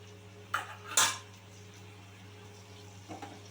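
Aloo dum being stirred with a curd and Kashmiri chilli spice paste in a pan: two sharp metal spoon clinks against the pan, one then another, followed by quieter scraping with a faint pair of clinks near the end.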